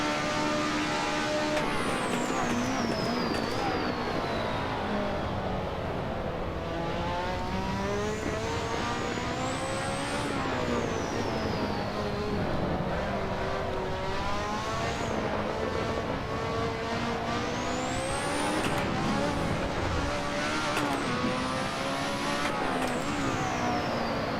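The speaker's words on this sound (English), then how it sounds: "when that turbo spools up, things happen" A turbocharged Lotus 98T Formula One car in Assetto Corsa, its engine wailing and climbing through repeated upshifts, rising pitch sweeps with turbo whine, loud and continuous throughout with no talking.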